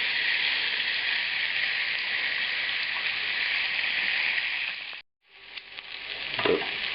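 Pork pieces frying two at a time in an oiled pan, a steady loud hiss and crackle of sizzling fat that cuts out abruptly, then returns more quietly with scattered pops.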